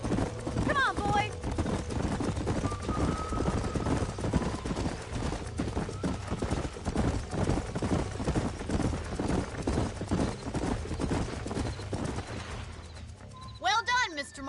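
Horse hooves clip-clopping in the Red Dead Redemption video game, a loud, steady galloping rhythm running throughout, with voices talking briefly near the start and end.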